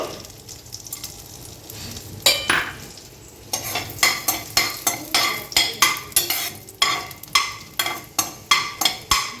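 Cinnamon, cloves and cardamom sizzle in melted butter in a pan, with a soft fry at first, then a close, rhythmic series of spoon scrapes and stirring clatters repeating about every half second.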